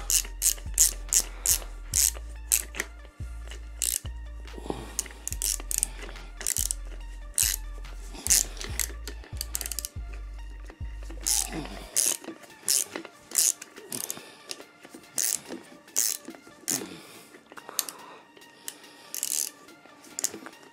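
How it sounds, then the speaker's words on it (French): A 13 mm wrench tightens a bolt on a Ford Focus, giving rapid ratcheting clicks in short bursts with a low hum beneath, then sharper metallic taps and clinks continue close by. "Je resserre avec la 13 et je bloque avec la clé à molette."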